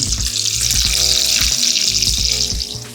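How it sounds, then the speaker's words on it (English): Loud, steady sizzling of seafood frying in a hot pot for a crab boil, a continuous crackling hiss with faint stirring underneath. "You hear that sizzling?"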